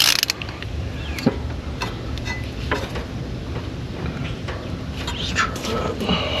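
A wrench working a stuck nut on a Freightliner Cascadia battery: close, loud metallic creaks and clicks in an uneven ratcheting rhythm over steady background noise.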